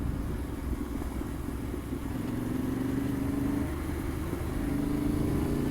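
Yamaha T7 parallel twin motorcycle riding on gravel, its steady engine drone running continuously at low revs with a faint pitch rise midway, no talk over it.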